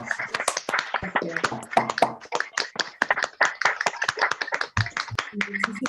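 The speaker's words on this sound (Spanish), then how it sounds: "si gustan abrir su micrófono y le damos un aplauso a Denise" Scattered claps from an online audience with unmuted microphones after a psychology talk on anxiety during COVID-19, sharp uneven hand claps mixed with overlapping voices and chatter throughout.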